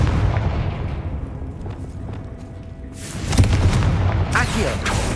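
A Confringo blasting spell cast in Hogwarts Legacy lands as a loud, booming burst with a crackling tail, following a quieter stretch of game ambience, and a second bright burst comes shortly after.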